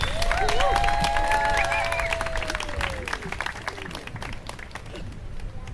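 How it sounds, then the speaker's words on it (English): Dense crowd applause with scattered cheers and whoops at a poetry slam, loud at first and gradually thinning out as the clapping continues. "Everyone, please give a round of applause for Monica Jahan Bose"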